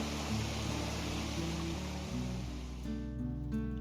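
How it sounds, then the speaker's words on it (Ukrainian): The Prut river rushing through the autumn Carpathians near Yaremche, a continuous broadband roar of fast-flowing water that stays loud and steady throughout, with faint tonal sounds layered over it. "шумить невгамовний пруд"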